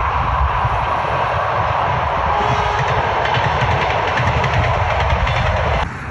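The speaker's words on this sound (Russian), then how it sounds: "поэтому электричка едет" An electric commuter train rumbles past near a wild beach in Yevpatoria, loud and close, with a continuous roar and rhythmic rail clatter for several seconds before it abruptly drops off at the end.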